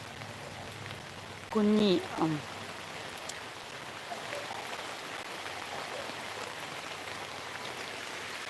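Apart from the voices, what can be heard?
night rain falling in forest, Malappuram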